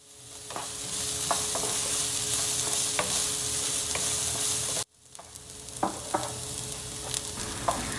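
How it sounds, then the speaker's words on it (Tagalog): Onions sautéing in a little hot oil in a frying pan, a steady close sizzle with occasional stirring scrapes and clicks, briefly interrupted midway before resuming. "Igisa ang sibuyas."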